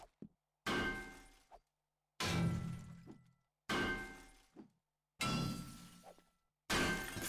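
Five heavy strikes cracking open a safe in the survival video game 7 Days To Die, each a loud, sharp smashing hit with a crunching tail, evenly spaced with short silences between, no talking.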